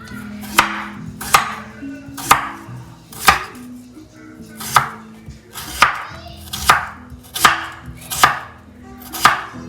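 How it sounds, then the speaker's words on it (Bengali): Potatoes sliced into thin round chip-like pieces with a knife on a board, about ten sharp, evenly spaced chops in a steady rhythm, close and clear with no talking. "আর ওটাকে একটু গোল গোল চিপসের মতো কাটবো"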